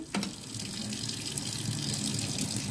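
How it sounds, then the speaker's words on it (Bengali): Dirty boiling water poured off country chicken curry meat in a home kitchen, a steady gushing splash of liquid running for a few seconds close by. "জল ফেলে দিচ্ছি, নোংরা জল।"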